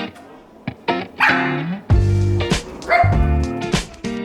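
Dogs barking and yipping in a pet food company's dog-friendly office: several sharp, close, loud barks in irregular bursts, with whimpering yips between them and a voice briefly audible.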